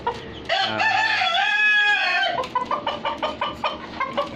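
A domestic rooster kept in a small cage lets out a full, loud crow close by, then breaks into a run of short rhythmic clucks.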